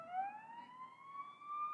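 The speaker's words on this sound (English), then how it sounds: "an ambulance is going right behind us here at the complex" An ambulance siren passing behind a softball complex, a faint distant wailing tone rising slowly and steadily, heard alone at low level.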